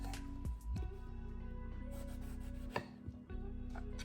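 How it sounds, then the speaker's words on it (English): A knife chops through eggplant on a cutting board, giving a handful of sharp, close thuds in an uneven rhythm over soft background music. "We'll start with cutting the eggplant first."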